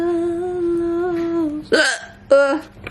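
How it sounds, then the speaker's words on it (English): A person hiccuping at bedtime: two sharp, loud, close hiccups about half a second apart, following a brief sustained voiced tone. "hop into bed and hope my hiccups go away soon"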